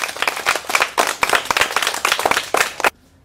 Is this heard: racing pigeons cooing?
no